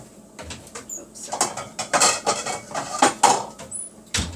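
Brittle tamarind pod shells cracked by hand, a string of irregular close snaps and crinkly crackles over several seconds, with no talk.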